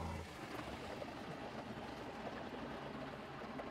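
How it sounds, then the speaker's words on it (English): A small diaphragm pump powered by a Milwaukee M12 battery fills a diesel heater's hot water system, giving a faint, steady, low mechanical hum with a watery churn throughout. "all I need to do is turn the pump on just so I fill everything with water"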